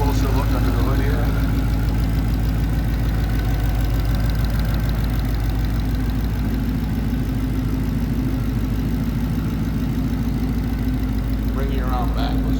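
A 2012 Ford Mustang GT coupe with a supercharged Whipple Coyote 5.0 V8 and dual exhaust idles with a steady, deep, loping rumble heard close up, holding evenly for the whole stretch.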